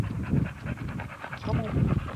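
A stud dog pants quickly in a kennel yard, short breathy huffs close to the listener, with a faint whimper mixed in.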